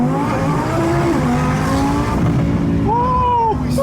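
A 1200 hp twin-turbo Audi R8 launching hard and spinning all four tires: a loud, close engine roar with rising and falling tones and tire squeal, while people shout and talk over it.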